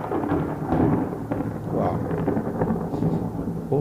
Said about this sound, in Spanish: Hay truenos. No sé si usted escucha, pero bueno, hay muchos truenos.